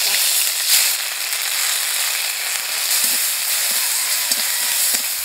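Ginger and green chili paste with turmeric and spices frying in a pan for an aloo gobi curry, giving a steady, close broadband sizzle with faint crackles and occasional stirring clicks, no voices.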